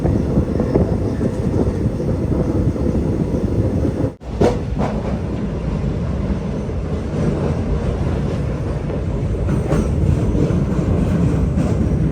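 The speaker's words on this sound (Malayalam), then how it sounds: "വടകര റെയിൽവേ സ്റ്റേഷനിലേക്ക് ഇതാ നമ്മുടെ ട്രെയിൻ എത്തിക്കൊണ്ടിരിക്കുകയാണ്" Mangaluru Express rolling into Vadakara railway station, heard from inside a sleeper-class coach as a loud continuous rumble of wheels and carriage, with a brief dip midway and wind buffeting.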